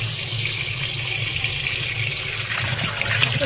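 Raw chicken is rinsed under a running kitchen tap, giving a steady close rush of water with faint splashing and handling noises.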